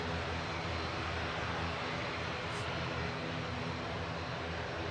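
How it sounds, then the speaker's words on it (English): British Airways Airbus A320 Classic touching down at Manchester Airport on a flight from London Heathrow, a continuous, even roar of engines heard at a distance with no voices. "Just landing in the background is BA coming in from London Heathrow."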